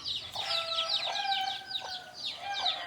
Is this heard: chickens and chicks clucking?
yes